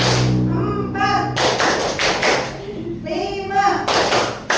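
A roomful of university students claps together in timed rhythmic bursts, with a few distinct group claps spread out between stretches of voices. The voices count aloud in between.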